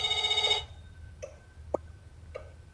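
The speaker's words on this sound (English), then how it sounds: "Honey, could you answer the phone?" Telephone in the video game Else Heart.Break() rings in a rapid electronic trill for about half a second, then stops; a few faint clicks and soft tones follow in the quiet game scene.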